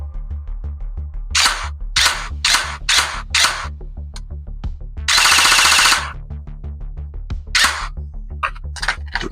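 A CYMA M4 gel blaster, newly repaired with an eshooter mosfet upgrade, fires loud close semi-auto shots in a quick string, then a sustained full-auto burst of about a second, then a few more single shots over a steady motor hum.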